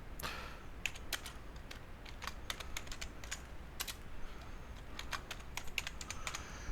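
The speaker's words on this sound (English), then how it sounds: "I'm typing my title" Rapid clicking of keys on a computer keyboard, typing in quick irregular bursts at close range, with no one speaking.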